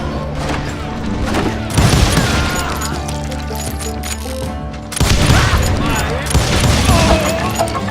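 Dense gunfire from hired gunmen in the Western shooter video game Call of Juarez Gunslinger, rapid overlapping shots and booms layered over loud game music, with bursts swelling in two heavy waves.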